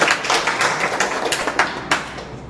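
An audience at a free seminar claps together, a dense steady patter of many hands with scattered sharper claps, sustained throughout at moderate loudness.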